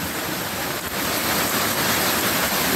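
Rainwater pours off a road and down into a yard, a loud, steady broadband rush close by with no voices over it.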